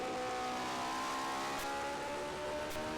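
A 1971 race car engine sings at high revs on a Grand Prix road course, holding a loud, steady tone with slight pitch shifts as the car downshifts into a right-hand turn, with no talking.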